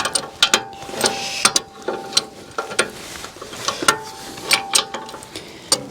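A hand ratchet clicks in quick irregular bursts while loosening a nut on the loader of a 1948 Farmall M tractor, with sharp close metallic ticks and brief pauses between strokes.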